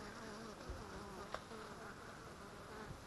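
Honey bees buzzing inside a bee package before installation in a beehive, a steady faint hum with a few brief louder passes, no talk.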